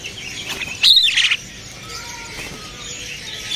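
A caged jala kebo bird at a bird market gives a brief burst of bright chirps and twitters partway through, close and fairly loud over a steady market background.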